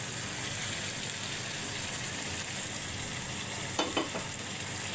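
Hot oil sizzles steadily in a pan of pepper chicken as potatoes go in, giving a constant frying hiss with a few brief clatters near the end.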